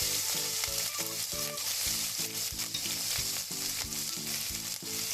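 Green chilies and ginger sizzle in hot oil in a pan for tomato rice, a loud, close crackling fry with rapid irregular spattering that carries on steadily throughout, no voices.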